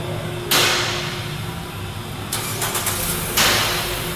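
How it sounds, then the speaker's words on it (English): A car engine cranks and starts after an oil change, with bursts of starter and ignition noise followed by a steady idle in a garage setting. "I'm going to start the car, let it run for about 10 seconds."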